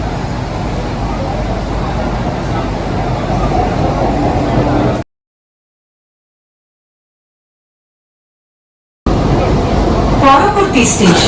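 A Kolkata metro train runs through the tunnel beneath the Ganges, a loud, steady rumbling roar that drops out entirely for a few seconds before returning with faint squeals.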